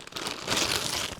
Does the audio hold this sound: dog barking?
no